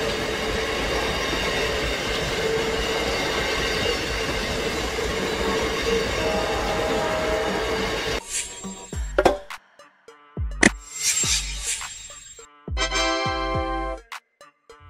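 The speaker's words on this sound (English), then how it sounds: "Clean and quiet, this train runs on electricity, making it eco-friendly and super smooth." An electric train passes with a loud, steady rush of wheels and a drawn-out squeal of metal on the rails. The sound then cuts to brief clicks and clatters of rail cars, separated by quiet gaps.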